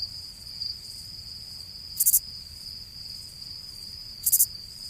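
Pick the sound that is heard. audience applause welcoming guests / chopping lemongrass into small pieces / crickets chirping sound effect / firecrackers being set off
crickets chirping sound effect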